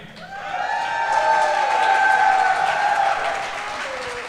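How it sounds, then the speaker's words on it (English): A large stadium crowd fills a packed venue at a Packers game, with a swelling roar of cheers and whoops rising and holding, then easing off, carrying a strong tonal hum through it. "what do you guys think about this nice big capacity crowd? This place is packed again, right?"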